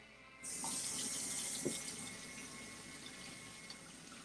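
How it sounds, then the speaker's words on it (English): Tap water running over ice cubes in glasses at a sink, a steady soft stream that starts abruptly and continues evenly, with a faint clink of ice partway through. "so I need to run them under some water."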